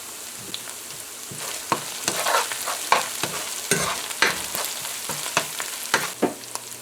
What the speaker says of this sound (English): So we fry this up for a little bit more